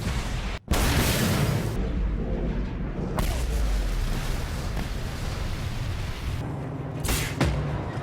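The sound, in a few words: explosions in video game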